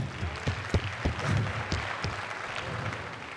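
An arena crowd at a livestock show claps in scattered, uneven bursts, moderately close, with a low background murmur beneath the applause.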